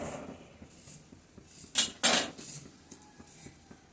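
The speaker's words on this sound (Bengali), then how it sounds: "এখন ঢাকনাটা দিয়ে দিচ্ছি।" A lid goes onto a cooking pot of potatoes frying in a home kitchen. Two sharp metallic clinks stand out in the middle, with softer clatter around them and no talk.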